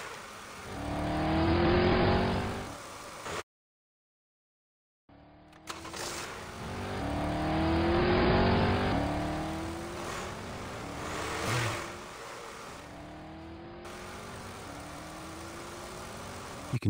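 A synthesized car engine in Unreal Engine 5 sweeps up and down through rising and falling revs as a control is adjusted, with a brief silent gap, then smoother shifting pitch, heard alone with no talk.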